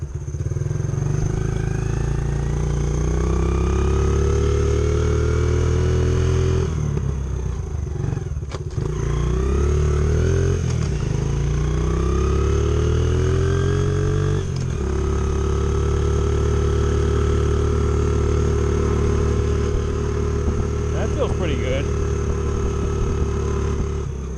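A Honda XR70 motorcycle fitted with a BBR 88cc big bore kit runs close by, its engine droning and rising and falling with throttle, rough and sputtering in places, with rattling and no speech.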